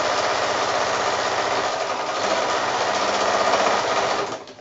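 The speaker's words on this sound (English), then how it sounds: "you might just want to do a little backstitch on the sides of the handle just to give it a little bit of extra strength at that point" Sewing machine backstitching through PVC coated fabric on shopping bag handles, a steady close, loud mechanical whir running continuously before slowing and stopping at the end.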